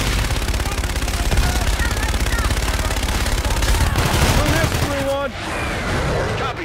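Gunfire in Call of Duty: Infinite Warfare during a city attack, a loud continuous rattle of automatic fire with voices speaking over the din, easing slightly toward the end.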